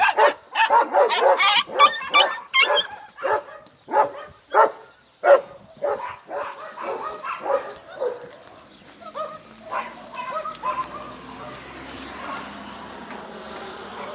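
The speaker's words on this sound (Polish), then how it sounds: "psy szczekają" Dogs barking in a rapid series of loud, sharp barks, then fading into quieter, scattered yips and barks further off against low background noise.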